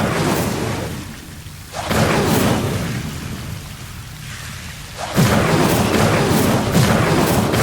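A magical Incendio fire spell cast in Hogwarts Legacy, heard as loud roaring whooshes and rumbling bursts that swell, ease off, then flare again.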